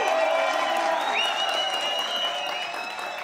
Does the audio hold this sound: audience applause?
yes